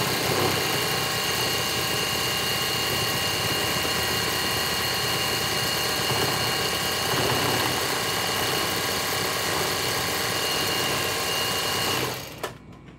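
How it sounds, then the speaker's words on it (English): A sewing machine winding a bobbin gives a steady, loud mechanical whir and hum that runs unbroken for about twelve seconds, then stops abruptly. "I'm able to wind a bobbin now"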